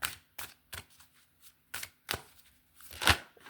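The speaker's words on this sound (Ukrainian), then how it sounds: "я тасую карта" Tarot cards shuffled by hand, a string of crisp, close snapping and slapping bursts at an uneven rhythm with short silences between them, and nobody speaking.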